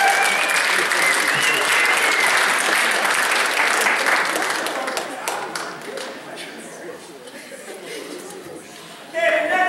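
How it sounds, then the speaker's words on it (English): Full, steady clapping from a school concert audience for the FHS concert band students, continuing for several seconds with light chatter and laughter mixed in before briefly swelling again at the end. "Guys should give them a round of applause."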